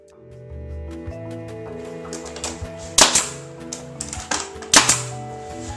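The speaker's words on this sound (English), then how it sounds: "just take your nail gun and start nailing away" A nail gun fires into crown molding at a wall corner, two loud sharp shots a couple of seconds apart with smaller knocks between, over steady background music.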